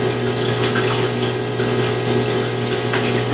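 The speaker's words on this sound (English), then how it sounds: "start tipping it more and more and pouring more water out as it gets farther over the tank" Water pours steadily from a bucket into a 20-gallon aquarium tank during a water change, a loud, continuous rushing splash close by with no talking.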